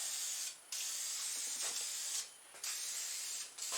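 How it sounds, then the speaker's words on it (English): Dupli-Color sealer primer sprays from an aerosol can onto raw metal in a small home shop, three steady hissing bursts with brief pauses between them, close and fairly loud. "I'm just using Dupe Color Sealer Primer."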